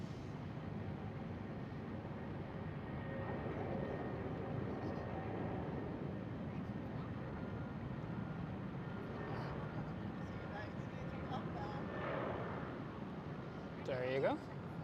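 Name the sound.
KLM Boeing 737 airliner at Schiphol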